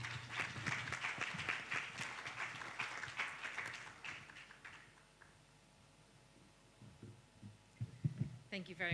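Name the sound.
audience applause welcoming a speaker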